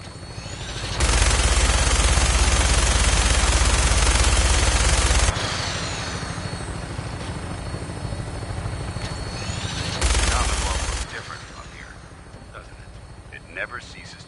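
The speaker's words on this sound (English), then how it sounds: "That minigun in front of you is loaded and ready to fire." A helicopter's steady rotor roar carries a Fallout 4 flight while long, loud bursts of minigun fire rip out, then a shorter burst, with a voice talking over the aircraft noise.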